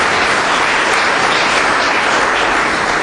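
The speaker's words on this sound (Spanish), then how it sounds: "¿Quiere darle palmas al Señor?" A church congregation claps loudly and continuously in a dense, steady wash of applause, with no voices rising above it.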